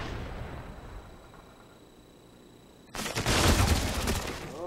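Video game gunfire breaks out suddenly after a quiet stretch: a loud, dense burst of rapid shots that carries on to the end.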